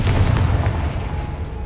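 A heavy booming blast from the Confringo fire spell in Hogwarts Legacy, a loud deep rumbling explosion that fills the short moment and rolls on without a clear break.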